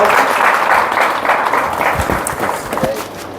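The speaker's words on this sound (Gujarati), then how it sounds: "તાળીઓથી આપણે વધાવશું।" An audience at a cotton farming school event in Gujarat bursts into loud sustained clapping, which thins and fades over the last second, with some voices mixed into the applause.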